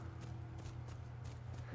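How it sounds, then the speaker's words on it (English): Horse hooves clip-clop at a steady ridden pace in The Last of Us, with regular soft hits over a constant low game drone and ambient hum. "We have a horse to ride and an Ellie to save in this new adventure."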